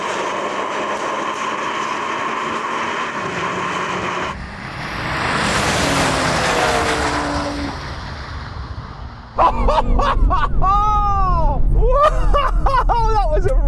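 BMW M cars drag racing on a strip, engines roaring and sweeping past with a rising then falling whoosh, followed by an excited voice talking loudly over the fading noise.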